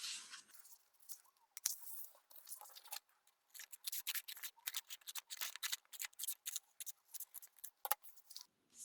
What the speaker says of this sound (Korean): 먼저 A4 용지를 준비하셔서 대각선으로, 큰사각형으로 접으신 다음에 잘라줍니다.